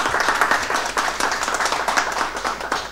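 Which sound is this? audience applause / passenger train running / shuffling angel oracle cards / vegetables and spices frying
audience applause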